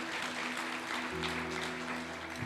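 Church congregation applauding together, a steady wash of clapping over sustained music tones, held at an even level for a couple of seconds.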